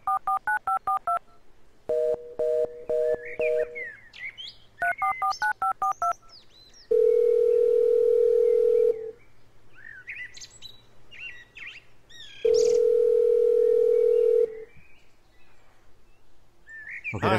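A cell phone call in the video game Miazma or The Devil's Stone: quick bursts of keypad dialing tones, then two long, steady ringing tones separated by chirpy electronic sounds.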